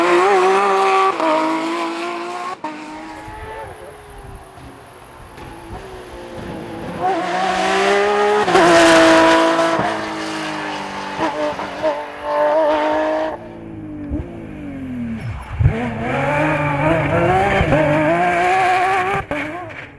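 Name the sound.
Porsche 997 rally car racing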